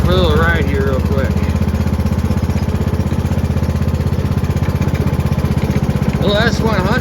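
A S100 riding lawn mower with a 42-inch deck running steadily as it is driven around a property, its close, loud engine throbbing in a fast even pulse, with brief squeaky bursts near the start and end.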